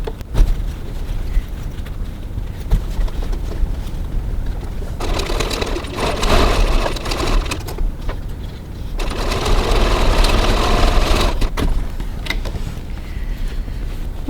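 A sewing machine stitches the base of a fabric hip cross-body bag in two sustained runs of rapid whirring, separated by brief pauses and quieter handling sounds.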